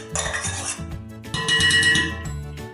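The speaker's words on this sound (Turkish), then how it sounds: "Öncelikle pişen bulgurumu şöyle geniş bir kabın içerisine alıyorum." Cooked bulgur is moved into a wide bowl, with two bursts of metallic clatter and scraping as a utensil knocks against cookware, separated by a short pause.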